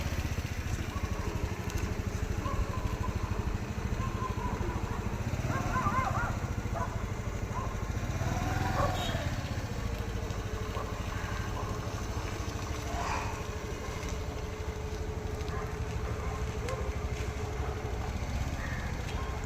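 A two-wheeler ridden in rounds at a driving school training ground in Kengeri, its engine humming steadily at moderate distance, rising and easing slightly with throttle, with faint background voices.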